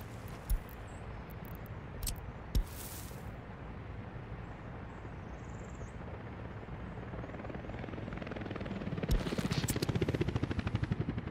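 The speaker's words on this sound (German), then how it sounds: "Ich setze es und schon kommt der erste Hubschrauber." A helicopter arriving in the city-building game Workers & Resources, its low rotor drone steady throughout with a few sharp clicks, then the chopping beat growing louder and nearer toward the end.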